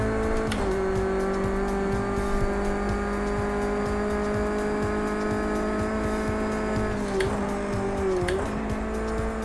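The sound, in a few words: car engine driving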